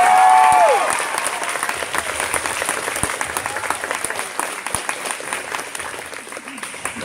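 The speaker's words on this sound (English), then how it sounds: "Give her another round of applause" Audience applause at a karate belt testing, a loud, dense burst of clapping from a crowd that holds steady throughout, with a brief tone at the start.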